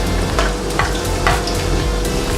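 Onions frying in hot oil in a pan, a steady close sizzle with several soft stirring scrapes and clicks spaced through it, no voices.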